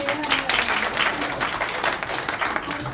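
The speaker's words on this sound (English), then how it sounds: "Little applause for Anna." Steady applause from a church congregation at a morning service, a dense even patter of many hands clapping throughout with no voices over it.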